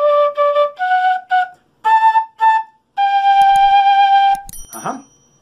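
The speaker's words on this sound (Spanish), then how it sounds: "Seguimos con el tutorial de la quena." A quena flute plays a melodic phrase of short repeated paired notes followed by a longer sustained tone, clear and close with no talking, ending in a brief breathy noise.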